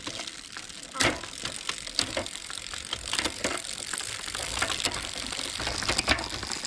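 A ratchet clicks in short bursts while a brake cable bolt is tightened on a kid's bicycle, close and moderately loud, with a few sharper knocks among the rapid pawl clicks.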